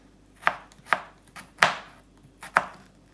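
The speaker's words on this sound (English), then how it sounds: "I've got 5 cloves of garlic, and all we're going to do is chop them up finely" A knife chopping garlic cloves finely on a board, four or five distinct sharp close chops at an uneven pace, with no talk.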